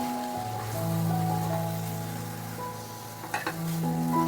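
Beetroot and green chilli sizzle steadily in a pan while being stirred and mixed. A soft, even frying hiss runs under sustained tonal background sounds, with a few brief scrapes near the end and no talking.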